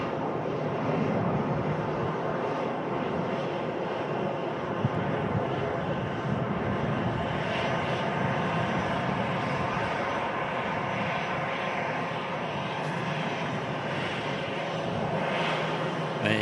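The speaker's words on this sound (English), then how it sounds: "Just parking up now. The Airbus A380 800 series" Airbus A380-800 taxiing to park at Manchester Airport, a sustained broad jet engine rumble and whine at steady loudness, with a voice talking intermittently over it.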